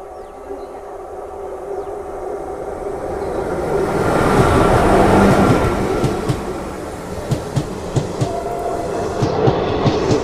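A Tirupati–Secunderabad superfast express with LHB coaches rolls through on its first run, its rumble swelling loud and close, then settling into regular clickety-clack wheel beats, with a crowd murmuring in the background.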